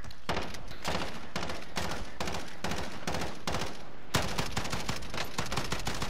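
Rapid bursts of automatic gunfire from the video game Call of Duty: Warzone rattle in dense, repeated volleys, loud and almost continuous with brief gaps between strings of shots.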